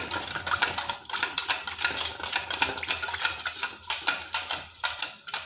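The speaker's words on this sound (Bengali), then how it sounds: "আর এখানে দিচ্ছি তিন চামচ রিফাইন তেল এরপর এগুলো ভালোভাবে সব মিশিয়ে নিচ্ছি" Oil being stirred into naan puri dough ingredients in a bowl, a steady scraping, clinking rhythm of utensil against the bowl, close and continuous with no talking.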